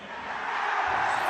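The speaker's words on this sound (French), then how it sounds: "Applaudissez pour les Russes!" A crowd in a stadium in Bangui, Central African Republic, roars and cheers in a dense, continuous wash of noise that swells slightly and is heard alone for a brief moment.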